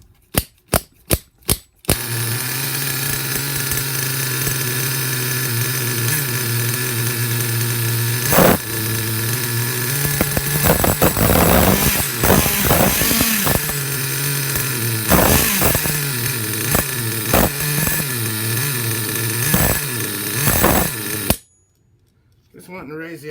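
A Redcat Volcano RC truck fitted with an HPI 3.0 nitro engine idles loudly and steadily for about twenty seconds, with brief revving blips partway through, a few sharp pull-start bursts before it catches, and an abrupt cutoff at the end.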